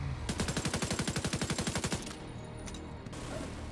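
Automatic gunfire in The Division 2, a rapid loud burst of evenly spaced shots lasting about two seconds, followed by a quieter, rumbling game soundscape.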